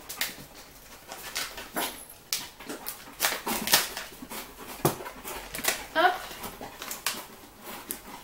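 Dogs whimper and whine in short bursts amid rustling and clattering, with a person speaking briefly nearby.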